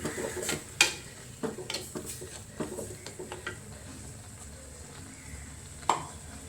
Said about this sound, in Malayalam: നന്നായിട്ട് ഇളക്കുക ഇതിനകത്ത്